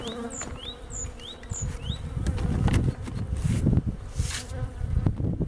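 Bees buzz around an open hive as it is being closed, a busy close-up drone with individual insects whining past. Scattered knocks and scraping sounds from handling the hive come through, with no speech.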